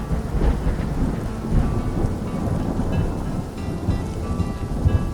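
Heavy rain pours down steadily, with low rumbling thunder rolling underneath and a few louder cracks breaking through the constant wash.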